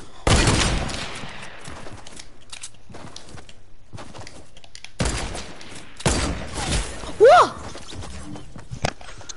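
Sniper shots in the video game Fortnite: a few sharp, loud cracks scattered across the span with quieter game sounds and brief chirps between them, no talk during the shots.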